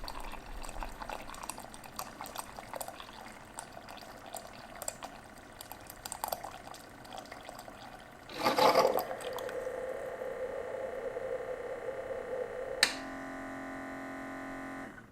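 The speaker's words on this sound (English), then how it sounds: "You don't want to put any pods in here since we're just brewing hot water." A Keurig K55 coffee maker brews hot water without a pod: quiet clicks and trickles, then a gurgling rush as water pumps through, settling into a steady stream into the cup before a final sputter.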